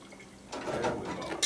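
A leaky faucet lets water trickle and drip into a sink, a soft watery patter rising after a quiet start and continuing close by for a moment.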